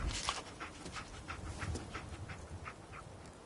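Dogmeat, the dog companion in Fallout 4, pants in steady quick breaths close by, a rhythmic run of huffs over a low background hum.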